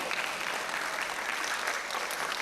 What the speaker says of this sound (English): I thought at least if my students did not applaud, at least our faculty would.